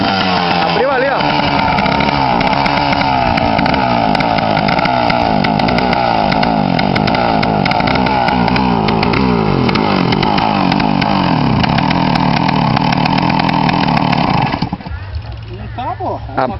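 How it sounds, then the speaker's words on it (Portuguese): A trail motorcycle engine running with a broken, open exhaust, a loud raspy buzzing drone that revs and wavers for most of the time before abruptly dropping to a lower idle, with people talking over it. "Acho que abriu ali o escape ali."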